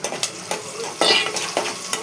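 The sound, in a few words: food frying and being stirred in a pan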